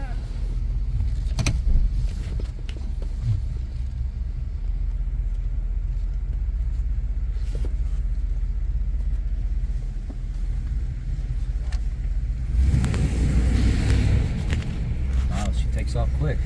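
A 1990 Cadillac Brougham with a 5.7L TBI V8 pulling away, its low engine rumble building into a louder surge near the end, with someone talking intermittently over it inside the car.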